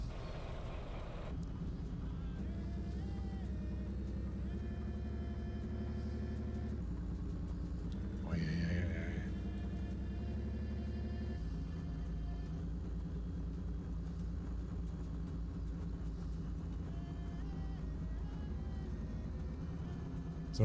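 A farm vehicle in Farming Simulator 19 drives along at a steady pace toward a ranch entrance, giving a continuous low engine rumble with slight pitch shifts and one brief higher rattle midway.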